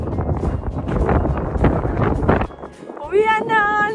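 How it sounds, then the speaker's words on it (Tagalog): Strong wind buffets the microphone in a loud, roaring rush at the Big Rock glacial erratic in Okotoks, Alberta, with a brief lull before voices and higher-pitched sounds come in near the end. "Lakas ng hangin dito."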